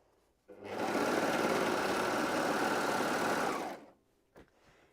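A sewing machine stitches the short ends of an armband together in one steady, even whirring run of about three seconds, followed by a brief click.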